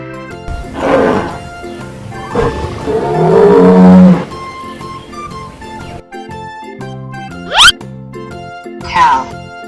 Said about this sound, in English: Stegosaurus.